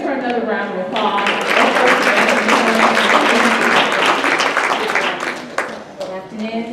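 Conference audience applause for a speaker at a women's business conference, steady dense clapping that swells and then thins out toward the end.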